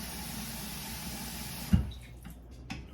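Tap water runs steadily into a pot or sink while preparing salmon soup, a continuous wash of flow that cuts off partway with a clunk, leaving faint drips and small knocks.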